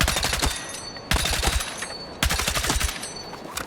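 An M277 rifle fires in Battlefield 6 in three rapid automatic bursts, each a fast string of loud, close shots followed by a brief trailing echo before the next.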